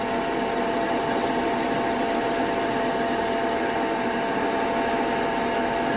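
A metal lathe takes a light cutting pass on a hemi adapter, giving a steady, dense whirring hiss that holds level and loud throughout without pause or talk.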